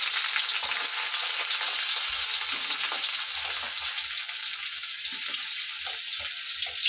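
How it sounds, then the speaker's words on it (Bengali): Eggplant fries in hot oil in a home kitchen, giving a steady, dense sizzle that stays close and continuous throughout, with occasional light knocks and no talking. "তেল গরম হয়ে গেছে, বেগুনটা দিয়ে দিই।"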